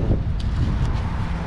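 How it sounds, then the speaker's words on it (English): Steady wind buffets the microphone in a low, continuous rumble, with faint rustling flickers now and then; no voices. "Yeah, it's really windy right now. Everything's flying around."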